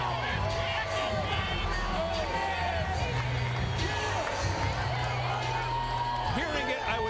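A boxing arena crowd murmurs and stirs as a heavyweight fighter comes into view, a broad, steady roar of hubbub running under a commentator's continuous talk.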